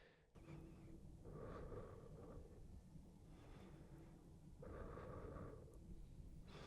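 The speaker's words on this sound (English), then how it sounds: "the breathing sound effects that I recorded myself, heavily breathing in my studio alone" Heavy breathing recorded alone in a studio, long continuous breaths swelling and easing in a steady rhythm, close and loud with no other sounds.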